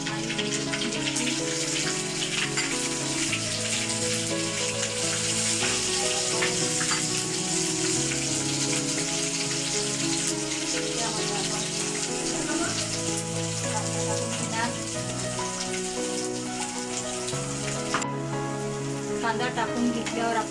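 Onion fries with cumin seeds, curry leaves and chili for an okra masala, giving a continuous, even sizzle with occasional stirring scrapes over a steady tonal background hum.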